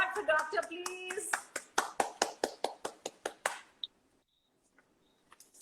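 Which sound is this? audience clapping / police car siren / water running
audience clapping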